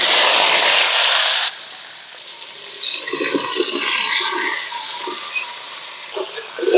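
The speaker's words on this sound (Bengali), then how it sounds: "আমগুলো দিয়ে একটু আমি নেড়ে চেড়ে এইভাবে ভেজে নেব।" Mango pieces frying in mustard oil with dried red chillies, bay leaf and five-spice, starting with a loud burst of hissing that settles into a softer sputter, with stirring clatter near the end.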